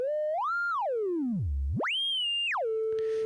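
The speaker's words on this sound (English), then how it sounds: "If I connect the audio output to the noise module, you can hear it, and you can hear it has a pitch component." Synthesizer noise module fed an audio signal so it carries a pitch: a loud electronic tone sweeps up, dives deep low, climbs high again and settles on a steady pitch, with a hiss entering near the end.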